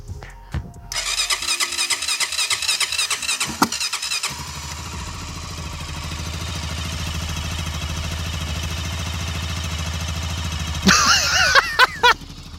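A Honda 400EX ATV that sat unused for years cranks over with a whirring starter, then fires and settles into a loud, steady idle close by, followed by a few sharp revs near the end.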